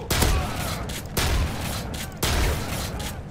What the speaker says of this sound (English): I was just like shooting the ground